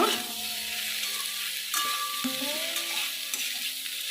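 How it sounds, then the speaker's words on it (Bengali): Taro, yardlong beans and potato being sautéed with spices in a pan, giving a steady close sizzle with scraping stirs throughout and no voices. "মশলার সঙ্গে ভালো করে আমি এবারে সবজিগুলোকে কষে নেব"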